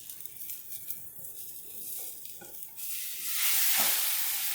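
A quiet sizzle of an egg frying in a nonstick pan with vegetables after being flipped, with a soft crackle that swells into a brighter, louder hiss near the end.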